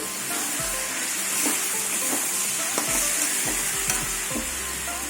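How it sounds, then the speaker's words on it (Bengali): A spice paste, splashed with a little water, is sautéed in a pan for a dried-pea ghugni, sizzling continuously while a spoon scrapes and stirs in repeated strokes. "এবার ভালো করে মশলা দিয়ে ভালো করে কষিয়ে নেব"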